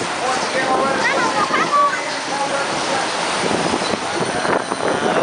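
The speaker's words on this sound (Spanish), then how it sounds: "Ahí viene, ahí viene, ahí viene el agua." Water rushes and splashes onto riders of a water ride at Legoland in Carlsbad, a broad steady wash of noise with excited voices talking and exclaiming over it throughout.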